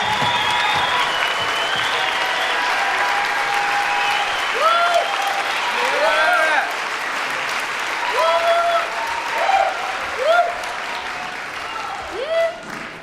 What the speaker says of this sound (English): Give a nice standing ovation for them.